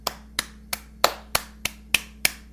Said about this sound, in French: Je pense que ça mérite une main d'applaudissement pour l'Abitibi.